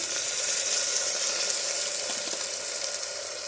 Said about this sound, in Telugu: ఈ తాలింపులో వేగనివ్వాలి.